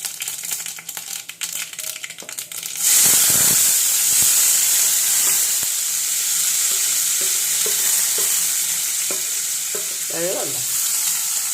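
Oil heats in a pan for an egg curry, first quiet with faint clatter, then bursting into a loud, sustained hiss and sizzle with occasional stirring clinks.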